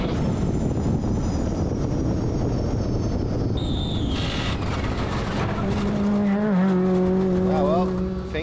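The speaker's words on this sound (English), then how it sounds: "Car's going good, belt temp's good, engine temp's good." A Kincrome side-by-side off-road race car drives the Finke Desert Race in Australia, with a loud, droning engine and rushing wind, then wavering engine tones rising and falling near the end.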